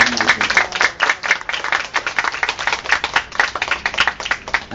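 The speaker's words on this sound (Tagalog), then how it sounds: "Lakas po natin palakpak para sa bagong kasal na ito." Wedding guests applaud the newlyweds, with a dense patter of hand claps that swells and ebbs for several seconds, fairly close and with no talk over it.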